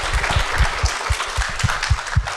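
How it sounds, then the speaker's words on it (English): Audience at a festival panel on immigration stories claps for the panelists, a brisk roomful of applause with a steady rhythmic low thumping running beneath it. "can we give it a warm applause"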